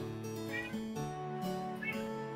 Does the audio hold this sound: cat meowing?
yes